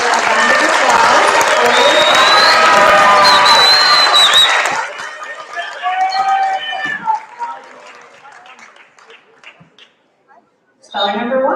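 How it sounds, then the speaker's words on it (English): A school audience at a 6th-8th grade spelling bee claps loudly for several seconds after a correct answer, then the applause thins into scattered claps and shuffling before a short final burst. "Have a round of applause."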